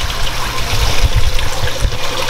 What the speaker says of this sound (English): So this is the aeroponic system. They use the water pump there and then pump the water there.